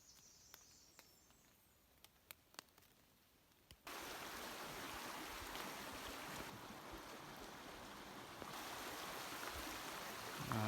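Steady rushing river water at a trail crossing on the Appalachian Trail in Maine, starting quiet with a few clicks and then swelling into a loud, continuous broadband wash that runs to the end, with no talking.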